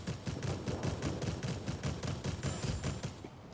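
Rapid bursts of aircraft cannon fire from four guns on a cruising fighter plane in a video game, a fast rattling stream of shots repeating steadily, fairly quiet and without talk.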